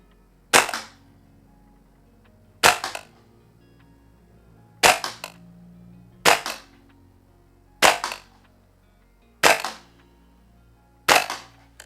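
Cybergun Scar Light MWS gas blowback airsoft rifle firing on an outdoor range: seven sharp, loud single shots spaced about a second and a half apart, each a crisp crack with a short blowback tail, no talking.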